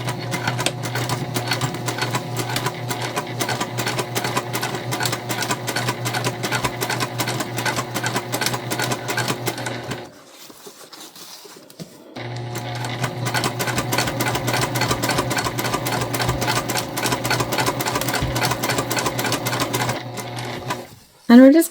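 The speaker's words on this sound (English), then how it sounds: "And we're top stitching at 1/8 of an inch." A sewing machine top-stitches cotton fabric at a rapid, even needle rhythm and runs close and loud. It stops for about two seconds midway, then resumes, and a short clack closes the run.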